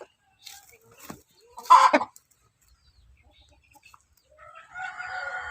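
A chicken suffering a respiratory snoring illness makes brief raspy, gurgling clucks and a crow-like squawk, close by and otherwise quiet, ending with a strained wheezy cry.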